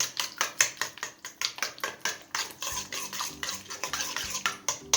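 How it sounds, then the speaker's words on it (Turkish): A dough mixture with a spoonful of vinegar for a walnut-roll dessert is whisked by hand in a bowl, giving quick, rhythmic scraping strokes that repeat steadily and close by. "Bir yemek kaşığı sirkemizi de ekledikten sonra şöyle hafifçe elimizle önce bir çırpalım."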